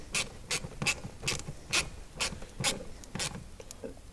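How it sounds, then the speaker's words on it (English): Bolts on a Jeep Cherokee blower motor resistor are snugged down with a ratcheting tool, giving a quick series of sharp, close clicks at an even rhythm. "So we'll just snug these bolts into place here."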